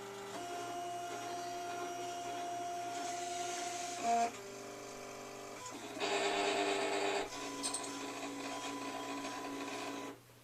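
A Silhouette Cameo cutting machine scans for registration marks, giving a steady whirring motor hum in shifting stages, with short louder mechanical buzzes partway through before it stops, close and fairly quiet.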